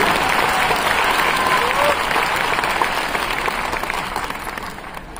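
Audience clapping at a business seminar in Nagpur, loud, dense applause from a crowd that starts strong, with a voice briefly over it, then gradually fades toward the end.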